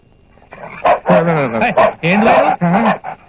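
A dog barks in a film scene, a burst of several loud, close barks and yelps packed into about two and a half seconds after a quiet start.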